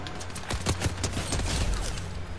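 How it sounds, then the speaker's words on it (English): Rapid gunfire crackles in the video game Fortnite, a dense burst of shots in quick succession over steady in-game background noise. "Where am I being shot from?"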